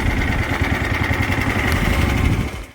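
A small outboard engine on a jon boat runs steadily with a buzzy, lawnmower-like drone, close and continuous before cutting off at the end.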